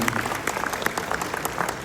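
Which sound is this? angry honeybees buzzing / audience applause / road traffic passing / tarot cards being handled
audience applause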